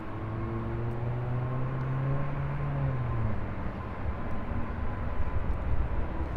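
A Spirit Airlines A320 on landing approach at LAX gives a loud, steady roar with a wavering tonal hum that slides slightly in pitch, nearby and continuous with no voices.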